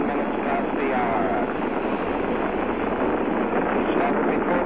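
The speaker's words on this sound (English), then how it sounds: "Liftoff. We have liftoff 49 minutes past the hour." Apollo 10 rocket lifting off, a dense, continuous engine roar at constant loudness, with an announcer's voice speaking over the rumble.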